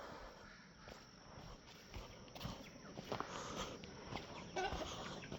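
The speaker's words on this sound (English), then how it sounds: "Oi, rooster, get down from there!" A rooster and hens cluck and call around the coop at feeding time on a farm, scattered bird sounds over a busy low background, moderately near.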